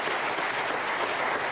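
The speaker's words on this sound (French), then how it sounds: "Applaudissez-le, ça lui fait plaisir." A theatre audience at a live comedy show in Val Cenis claps in dense, sustained applause, loud and even throughout with no talking.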